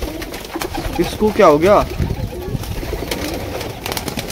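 Domestic pigeons coo softly and intermittently in a home flock, with someone talking over them throughout.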